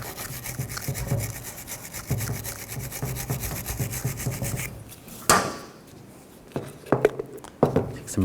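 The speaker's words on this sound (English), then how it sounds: "Take a wire brush and clean up some of the rust right here." A wire brush scrubs rust off a brake caliper bracket on a 2009-2017 Chevy Traverse, with rapid rhythmic rasping strokes for several seconds, then a pause and a few short scraping bursts up close.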